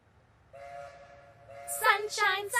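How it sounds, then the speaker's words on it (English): A train whistle sounds a steady, faint tone, then grows louder and breaks into a few short blasts with other sounds mixed in. "The train had arrived right on time"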